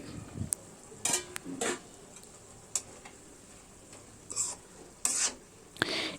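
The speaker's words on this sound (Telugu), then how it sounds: "పాలకూర కూడా మొత్తం కలిసేలాగా కలుపుకొని ఒక నిమిషం పాటు లో ఫ్లేమ్లో ఉడికించుకోండి" A spoon scrapes and stirs ridge gourd and spinach curry in a pan over low flame, giving a handful of separate, close rasping strokes against a faint sizzle.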